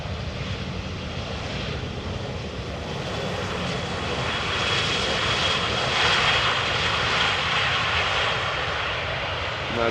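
An EasyJet airliner at Amsterdam Schiphol Airport gives a steady, broad engine roar that holds for the whole stretch and swells slightly toward the middle, heard from a moderate distance with no voices.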